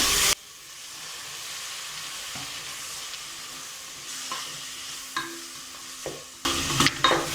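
Onions and tomatoes for mutton biryani sauté in a pan, giving a continuous even sizzle with occasional stirring taps and scrapes, and a brief louder clatter near the end.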